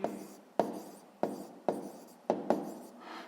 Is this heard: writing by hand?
yes